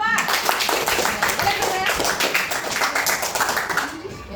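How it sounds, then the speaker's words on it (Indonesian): A primary school class of fourth graders claps for a student group, dense rapid applause from many hands filling the room without pause, with a teacher's voice talking over it. "Oke, beri tepuk tangan kelompok 2."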